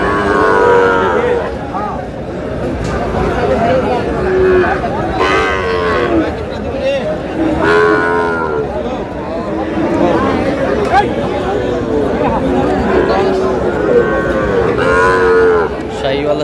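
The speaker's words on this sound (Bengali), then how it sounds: "শাহিওয়ালের ষাঁড়" Sahiwal bulls at a Bogura cattle market moo repeatedly, loud and close, the deep calls recurring every few seconds over a crowd of chattering buyers and sellers.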